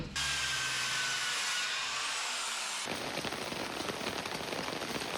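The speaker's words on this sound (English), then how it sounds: "So it is raining again." Steady rain patters on a surface, a dense hiss of drops that continues without letup after a brief louder noise at the start.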